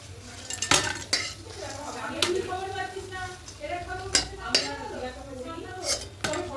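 Metal utensils clink and scrape against a pan while gram flour fritters are lifted out of hot oil, several sharp chinks at irregular intervals over a soft background sizzle.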